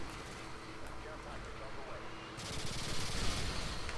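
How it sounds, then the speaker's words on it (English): Rapid gunfire rattles in Modern Warfare 2 team deathmatch on the Quarry map, a dense automatic burst that grows louder and busier partway through, heard over a noisy in-game background while a voice talks. "I started shooting before he actually ran into the way of my bullets"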